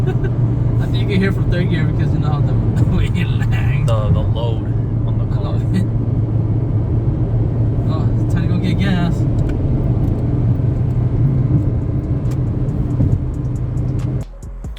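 Honda Civic Si engine lagging under load in third gear, a steady loud droning rumble of engine and road noise running throughout, with someone talking over it.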